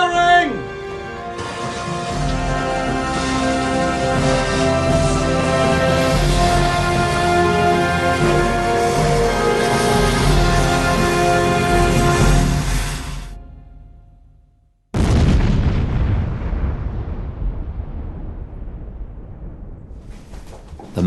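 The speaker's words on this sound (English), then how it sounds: "To get the explosion sort of propagating out into the rock, we need to block up the hole." Rock blasting at a mine: a long, loud rumbling roar that fills about thirteen seconds and fades out, then after a short gap a second heavy burst that slowly decays with echoing debris.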